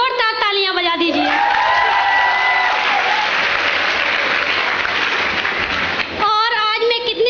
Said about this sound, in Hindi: आप सभी लोग महागुरु के प्रति एक बार जोरदार तालियां बजा दीजिए